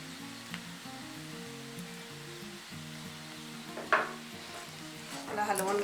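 A spoon stirring cooked French beans sabzi with fresh coriander in a pan, giving soft scraping and light sizzling, with a sharper clink near the middle and louder scraping at the end.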